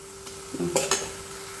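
Ridge gourd sautéing in a pan, with a soft sizzle and a couple of quick stirring scrapes from a spoon, brief and close, with no voices.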